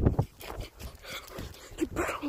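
A dog gives a few short, close barks and whimpering yips in uneven bursts, mixed with background noise and some faint voice.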